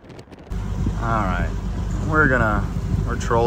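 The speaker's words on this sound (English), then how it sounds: "We're trolling back in here, idling back in" A boat engine idles with a low rumble while trolling on a lake, beneath someone talking, wind brushing the microphone.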